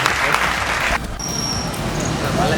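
Group clapping for a right answer rolls on steadily and fairly loud. It continues unbroken, with a brief dip partway and faint voices mixed in.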